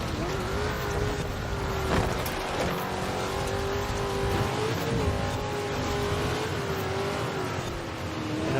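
Pontiac Firebird Trans Am on dirt tires racing through sand in Forza Horizon 4, a steady loud engine drone with slight pitch wavers as it holds high revs, over gritty rumbling tire noise.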